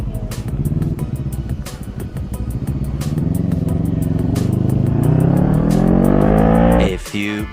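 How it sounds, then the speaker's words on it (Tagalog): A CFMoto NK400 motorcycle engine revs loud and close, pitch climbing steadily through a long rising pull before cutting off sharply near the end, with short repeated clicks and taps over the engine. "Engine firing up."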